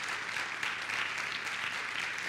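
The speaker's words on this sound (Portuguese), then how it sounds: "Eu pedi uma grande salva de palmas para os nossos convidados." An audience applauding guests at a talk, a steady dense patter of many hands clapping throughout, moderately distant and without speech.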